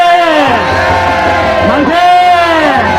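A large Korean church rally crowd roars in unison, loud and sustained, with voices rising and falling in drawn-out shouts of hurrah.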